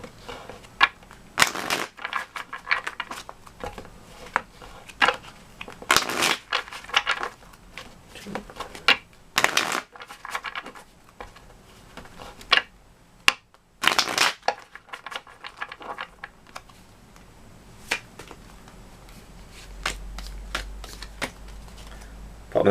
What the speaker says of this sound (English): Right, so we're just going to take 3 cards here.